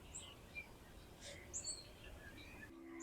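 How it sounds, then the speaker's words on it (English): Birds chirp and tweet outdoors at Lake Manawa on a warm day, short faint calls scattered over a steady hiss of ambient insect and outdoor noise. "if I could pitch a tent, I would, because listen to the birds"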